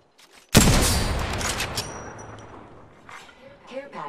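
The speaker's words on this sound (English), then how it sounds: "Opening fire." Gunfire in Apex Legends, a sudden loud burst of shots that rings out and decays over a few seconds, followed by faint game sounds.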